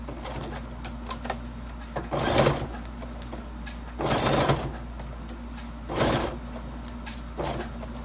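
A sewing machine stitches a straight seam one presser foot wide on a bookmark and pen-holder project, running in several short, loud bursts separated by brief pauses.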